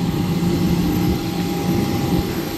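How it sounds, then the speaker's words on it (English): A steady, loud engine drone fills the cabin of an airplane leaving Gibraltar, a constant hum and rumble with no talk. "Just getting back on the plane"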